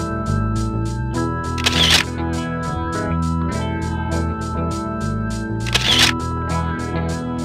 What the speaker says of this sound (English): Using this shutter remote allows hands-free control of your lens and your aperture.